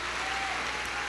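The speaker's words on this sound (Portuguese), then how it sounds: "Então, dá uma salva de palmas, louvando a Deus pela vida dela." A dense wash of clapping from a church congregation at a women's conference, steady and broadband, heard briefly without pause.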